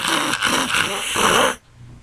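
A voice imitates radio static with a rough, hissing, crackly noise for about a second and a half, then stops abruptly.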